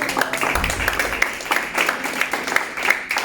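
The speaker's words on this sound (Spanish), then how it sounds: "¿Cuántos pueden aplaudir?" Congregation applause fills a church service, a dense, steady patter of many hands clapping close by with scattered sharper claps standing out over a low rumble.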